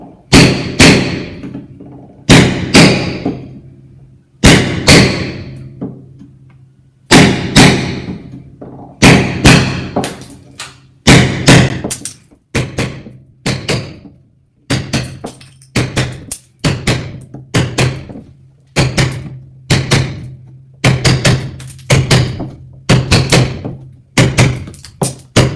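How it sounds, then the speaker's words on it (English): Hammer blows breaking the top plaster finish on a wall while chasing in a flush box, a long series of loud, sharp knocks and thuds in uneven bursts, close up with no talk. "so what I've done is just broke the top finish on the plaster"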